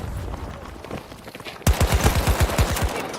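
Short-barrelled VCAR rifle fired in a video game, a rapid automatic burst of about a dozen loud, punchy shots that starts abruptly after a quieter stretch of background game noise.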